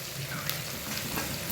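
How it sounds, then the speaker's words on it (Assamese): Turmeric and Kashmiri red chilli fry in a pan for an Assamese pork curry, giving a steady close sizzle with a couple of brief stirring scrapes. "এইখিনি মই ভালকৈ ৰঙচুৱা হোৱালৈকে ভাজি থাকিম"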